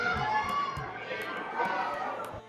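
A dense crowd of pilgrims mills at the closed main gate of Khatu Shyam temple in Rajasthan, a steady close wash of overlapping voices and chatter with occasional footsteps and knocks.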